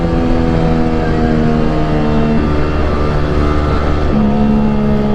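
A Yamaha R15 V3 motorcycle fitted with a Tridente F22 aftermarket exhaust runs close and loud while riding, a steady throaty engine drone with small shifts in pitch as it decelerates.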